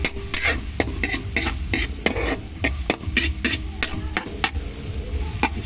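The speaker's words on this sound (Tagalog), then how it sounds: "Mantika na kunti lang para lang maluto yung ating ricado." Finely sliced aromatics sauté in a little oil for a pork spaghetti sauce, a steady close sizzle broken by frequent sharp scrapes and taps of a spoon stirring the pan, with no talking.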